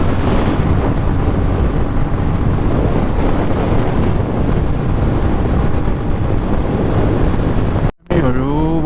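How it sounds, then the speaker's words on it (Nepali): Strong wind buffets the microphone in a continuous loud roar along a mountain road trip toward Mustang, cutting out abruptly near the end before a brief voice. "हावा चाहिँ अति नै चल्दो रहेछ यार"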